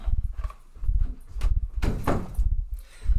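A household door is pushed shut with a few knocks and thuds, then a firmer close near the middle, heard up close in a quiet room with a dog nearby.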